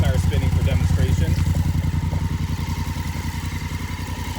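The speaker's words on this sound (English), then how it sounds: "with of course the rear tire spinning for demonstration," Motorcycle engine running steadily on its center stand with the rear tire spinning, a close, loud, pulsing low rumble throughout while someone talks over it.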